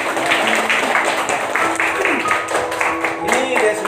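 A school audience of children claps together for pupils honoured at an elementary school in Ciawi, Bogor, a loud, close burst of ragged clapping mixed with excited voices and chatter throughout.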